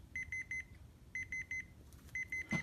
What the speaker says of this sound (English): The beep will automatically shut itself off after 60 seconds.